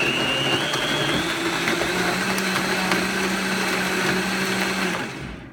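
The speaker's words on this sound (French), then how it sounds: "Donc, Vitamix, j'allume mon Vitamix" A Vitamix blender whirs steadily as it blends almonds and water into almond milk, a loud continuous motor drone with a faint rising whine, running alone for several seconds before winding down at the end.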